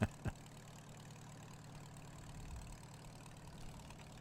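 An old farm tractor engine idling, a low steady rumble that stays even, faint and somewhat distant, with two brief knocks at the very start.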